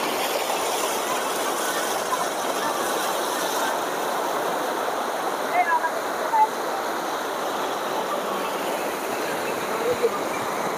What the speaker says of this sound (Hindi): जो पानी टकरा रहा है ना उसकी जो आवाज़ है ना एक बार आप वो सुनिए